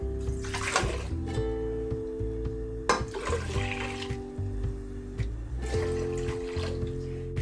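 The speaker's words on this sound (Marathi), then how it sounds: "गॅसवर कुकर ठेवला आहे त्यात आता पाणी घालून घेऊया" Water poured from a glass into a pressure cooker on a gas stove in a home kitchen, arriving in three separate splashing pours with short pauses between them.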